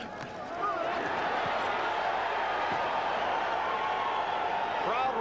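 A boxing crowd at the Larry Holmes vs Carl Williams fight roars in reaction to a punch combination, as a loud, sustained swell of noise with a broadcast commentator speaking over it.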